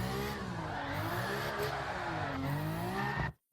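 A drift car in the video game Gran Turismo 7 slides with a sustained engine drone and wavering pitch, tyre noise blending underneath, steady and loud, then cutting off abruptly at the end.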